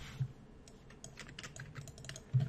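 Soft, quick keystrokes on a computer keyboard while working in the Nuke compositing software: a short run of light, irregular clicks, fairly quiet and close, with no voice.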